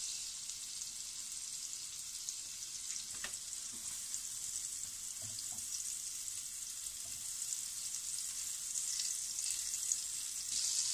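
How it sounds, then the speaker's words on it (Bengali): Butter melting in a heated pan while cooking chilli chicken gives a faint, steady sizzle with a few soft clicks and pops, quiet and continuous with no talking. "এখন আমি এখানে দিয়ে দিচ্ছি একটা বাটার"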